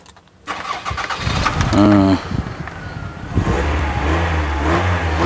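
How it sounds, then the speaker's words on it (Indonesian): A Toyota Picnic MPV engine cranks and catches, then revs up and settles into a steady idle, heard up close with someone talking over it. "Dengarkan ini Mas kameramen, lihat no mesinnya, tak hidupkan lah enak."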